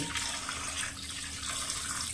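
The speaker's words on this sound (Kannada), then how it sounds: "ಇವಾಗ ಇದಕ್ಕೆ ನೀರು ಹಾಕಿ ಇಟ್ಬಿಡ್ತೀನಿ." Water is poured over vegetables in a kitchen to soak them, a steady close splashing stream for about two seconds with no speech.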